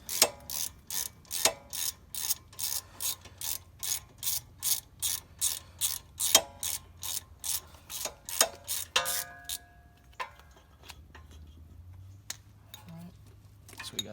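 A ratchet clicks in a steady run of strokes, loud and close, while a suspension bolt is loosened on an 8th-gen Honda Civic Si. A few metallic clinks follow as the bolt comes free.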